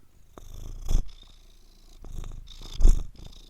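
A cat purrs up close in slow, rumbling waves, each breath cycle swelling and fading twice, with no voices.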